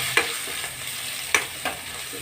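Ginger, green chili and crushed garlic sizzle in a pan while cooking prawn biryani. A steady frying hiss runs underneath, broken by a couple of sharp spoon scrapes and clinks as the mix is stirred.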